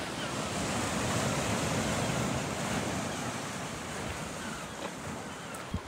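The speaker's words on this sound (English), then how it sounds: "The sea's actually coming in now." Sea surf rolls in with the incoming tide on the Scottish coast, a steady wash of waves blended with wind buffeting the microphone, continuous and moderately loud with no talk.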